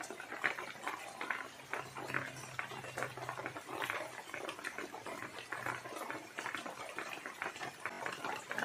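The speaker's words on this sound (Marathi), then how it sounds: "आता आम्ही समोसा परतून घेऊया." Samosas deep-frying in a kadhai make a soft, steady sizzle with a dense patter of tiny crackles throughout, with no talk.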